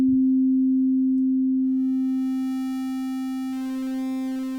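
Steady synthesized square-wave tone on middle C played from MIDI in Reaper, a single sustained note holding alone at moderate level, with its buzzy upper harmonics swelling in partway through.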